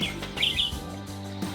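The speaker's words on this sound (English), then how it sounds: "Oh, I hear that robin." An American robin sings outdoors in the North Cascades, a few bright chirping phrases standing out over a steady low hum and background noise.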